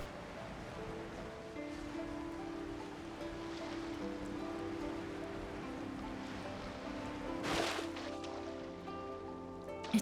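Steady rain in the video game Genshin Impact, a continuous soft hiss of falling water with a brief louder swell near the end, heard alone without talk.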